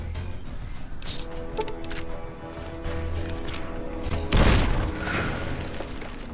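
Explosion in Fallout: New Vegas, a loud booming burst around the middle that rises sharply and then settles into a lingering rumble, heard over an ongoing low game ambience with no talk.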